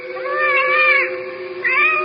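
A cat in a radio drama gives a drawn-out, wavering meow, then a shorter second meow, close and clear against a quiet background.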